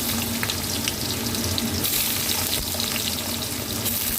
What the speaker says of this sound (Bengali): এই আলুগুলো দিলাম, এই সব আনাজগুলোই একসঙ্গে আমি ভেজে নেবো